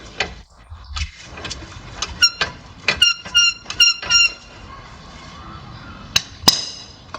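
A stuck ball joint bolt on a Chevrolet is hammered out, with a series of sharp metallic ringing blows, some in quick clusters, plus scraping and a final pair of clanging strikes, close and alone.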